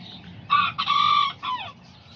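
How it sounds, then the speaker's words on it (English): Two Azteca roosters crowing close by, several loud drawn-out cock-a-doodle-doo calls in quick succession with a falling final crow, over faint background noise and no talk. "And then right here I got these 2 roosters."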